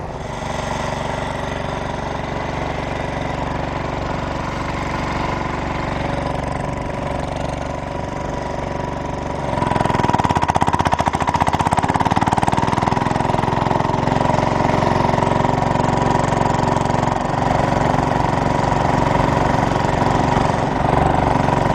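Over 20 Sears garden tractor engines, lined up in a row at a Pennsylvania plow day, drone steadily and loudly up close, a continuous mechanical rumble that grows a bit heavier partway through, with no voices.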